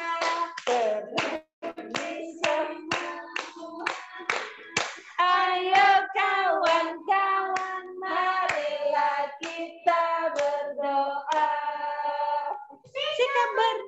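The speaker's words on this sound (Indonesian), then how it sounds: "tepuk jari tiga, tepuk jari empat, tepuk jari lima." Kindergarten children chant a counting rhyme while tapping their fingers together, a steady run of small, crisp claps mixed under their bright unison voices in a classroom.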